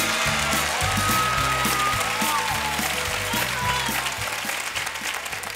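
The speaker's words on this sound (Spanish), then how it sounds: "Señoras y señores, con ustedes, Jaimito Borromeo." An audience applauds warmly as a comedian is introduced on stage, with sustained, even clapping heard close and loud, and a little music underneath.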